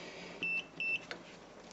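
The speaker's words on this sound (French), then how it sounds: "En mode buzzer, voilà." A multimeter in continuity mode gives two short, clear electronic beeps in quick succession, followed by a faint click, over a low background hiss while testing an 8-relay board.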